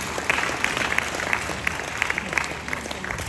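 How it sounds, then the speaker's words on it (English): Delegates at a formal royal ceremony applaud a keynote speaker, a museum director. The clapping is loud and sustained, with crisp individual claps standing out above the crowd. "Please, a round of applause for him."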